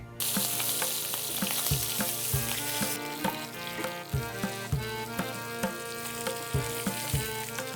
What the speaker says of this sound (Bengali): মাছের মাথাটা ভালো করে ভেজে নিয়েছি, এবার তুলে রাখবো।